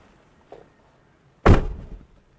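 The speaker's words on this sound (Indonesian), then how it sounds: "di pintu ini plastik, bahkan suara nutupnya kalau kalian bisa dengar" The plastic-trimmed door of a Ford Mustang EcoBoost shutting with one hollow thunk at close range, preceded by a faint click of the handle and followed by a short fading rattle.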